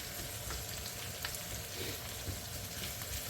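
Beef for boeuf bourguignon fries in a hot pan, giving a steady, close sizzle and crackle with faint stirring, and nothing else heard.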